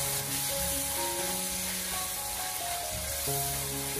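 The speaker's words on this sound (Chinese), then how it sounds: "再继续的开小火翻炒一下，把豆瓣酱给它炒出红油" Pixian doubanjiang sizzles with ginger and scallion in a wok over low heat, a steady close crackle and hiss with faint stirring, no talking.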